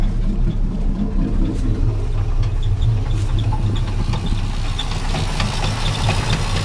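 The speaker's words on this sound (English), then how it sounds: "It's idling rough." A Chevrolet C10 truck engine idles roughly with the exhaust cut off, a loud, uneven, lumpy rumble with knocking pulses running steadily throughout, no talk.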